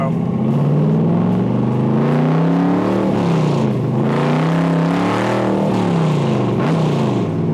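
A 1964 Corvette convertible's big block V8 engine rumbles loudly and steadily, its deep pitch rising and falling as the throttle is gently worked up and down.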